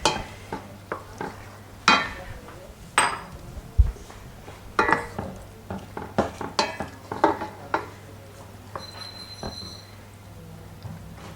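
Spoon scraping and clinking in a pot while Polish gołąbki with fresh onion is stirred, a run of sharp metallic knocks and scrapes over a steady low hum.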